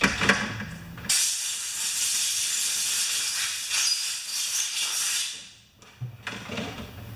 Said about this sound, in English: I'm just gonna pop this outside and blow the feathers off of it.